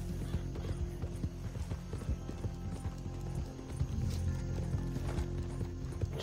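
Steady clip-clop of horse hooves in Red Dead Redemption 2 Online, a continuous close-up trot with faint mechanical clinks of tack underneath, no voices heard.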